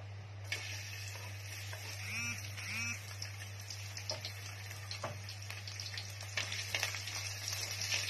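Beef fat dropped into hot oil fries with a steady, soft sizzle over a constant low hum, broken early on by a couple of brief squeaky tones and small crackles.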